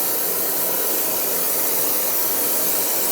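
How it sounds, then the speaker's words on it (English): Aerosol brake parts cleaner sprayed in one continuous loud hiss onto the brake area of a 2008-2012 Jeep Liberty, close and unbroken for the whole stretch. "spray down this area with some brake parts cleaner so that I can get rid of all the dust"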